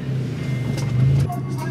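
A car's engine idles roughly with a misfire, a steady low rumble that runs on alone throughout and swells slightly in the middle.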